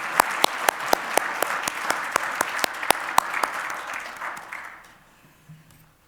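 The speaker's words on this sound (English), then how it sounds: "I hope you'll join me in applauding the Heartland Institute." Steady applause from a crowd, dense clapping with a few sharp close claps on top, fading out over the last couple of seconds.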